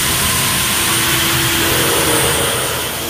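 Steady, loud mechanical roar and hum from a factory molding machine making frying pans and woks, continuous throughout with a faint high whine, no talk.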